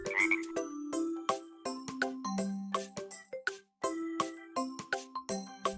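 Repeated cartoon-style frog croaks ring out in a quick, bouncy rhythm, each note sharp and musical, from a children's educational animal game, with a brief pause midway.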